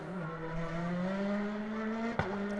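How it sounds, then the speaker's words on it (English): Thierry Neuville's rally car spinning tight donuts around a tower, its engine holding a steady high drone that slowly climbs in pitch, with a brief sharp knock near the end. "That is perhaps the tightest, most precise donuts around that tower that we've seen from Thierry Neuville."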